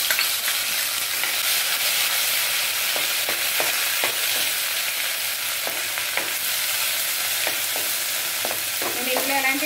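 Prawns frying in a pan for an egg, shrimp and onion curry give a steady, loud, close sizzle, with scattered spatula scrapes and taps over the hiss.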